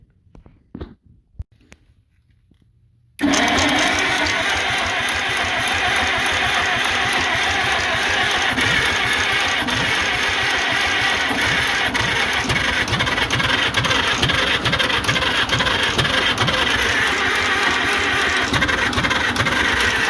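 After a few faint clicks and a quiet moment, a forgotten antique combine's engine, running on a restored starter, cranks and catches. It settles into a loud, steady, rhythmically thumping run that continues to the end.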